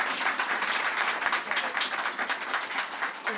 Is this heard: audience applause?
yes